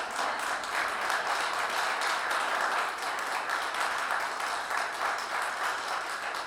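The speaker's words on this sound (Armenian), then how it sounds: "դու, ով ունի այդ պարգևը, թող բարձրաձայն ծափահարի Տիրոջը" A church congregation claps steadily and loudly for the Lord, a dense, even wash of many hands continuing throughout, with faint voices mixed in.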